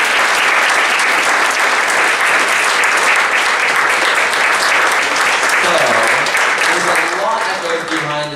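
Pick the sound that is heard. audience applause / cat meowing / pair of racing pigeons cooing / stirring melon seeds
audience applause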